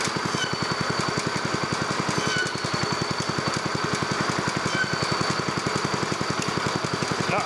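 Fisher & Paykel Smart Drive motor rigged as a high-voltage generator, running at idle speed with a steady low, rapid pulsing hum, close and even throughout with no talking.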